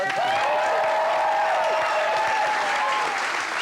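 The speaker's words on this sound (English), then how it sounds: "Give us a big round of applause." TV studio audience applauding on a comedy chat show, a steady, dense wash of clapping from a large crowd, loud and close, holding evenly throughout with a few tonal background sounds and no clear talk.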